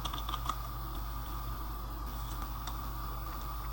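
A few light keystrokes tap on a computer keyboard, a short burst of typing near the start over a steady background hiss, then quiet hum.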